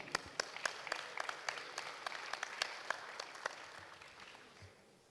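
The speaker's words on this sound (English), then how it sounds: "A round of applause for Stefan." An audience at a talk with a moderator and guest applauds, a modest scattering of distinct claps that thins and fades toward the end, no voices over it.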